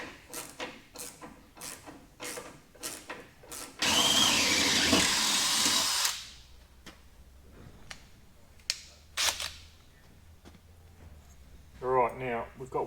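Power drill boring a hole while fitting a Land Rover Defender tyre carrier, a loud steady whine lasting about two seconds, set between clanks and light handling noises with brief bursts of talk.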